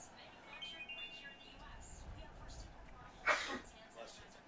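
A single sharp sneeze bursts out near the end over quiet background noise.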